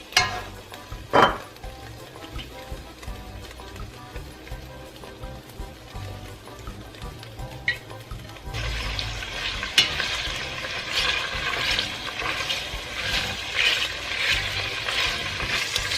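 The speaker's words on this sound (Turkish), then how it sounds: "Şimdi 4 yemek kaşığı zeytinyağı dökerek etimi kavuruyorum" Meat searing in four spoonfuls of olive oil for a vegetable meat casserole, a quiet steady sizzle with a few sharp utensil knocks early on, then a louder, denser frying hiss for the remaining seconds, no talking.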